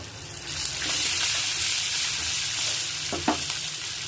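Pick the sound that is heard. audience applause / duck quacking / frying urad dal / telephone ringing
frying urad dal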